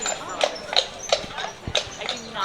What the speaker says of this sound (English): you can see the horse and carriage rides starting right now.